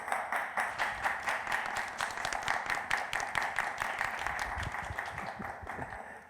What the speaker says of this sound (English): who is of course joining us remotely, but can hear your applause